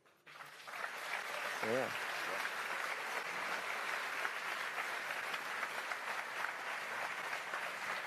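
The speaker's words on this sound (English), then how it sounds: "I feel like I keep cutting the applause off." Audience applause fills a hall at an Elite Dangerous presentation during a game expo, a sustained wash of clapping that starts abruptly after a short vocal interjection and continues evenly throughout.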